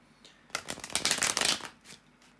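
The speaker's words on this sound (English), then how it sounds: "to shuffle the tarot cards" Tarot cards being shuffled by hand, a burst of rapid riffling and flapping lasting about a second, close and clear with no talking over it.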